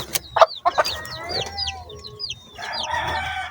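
Young chicks around a month old peep in bright chirps while adult chickens cluck nearby on a small poultry farm, a busy mix of calls close up with a rooster-like crow and a louder chirping chorus near the end.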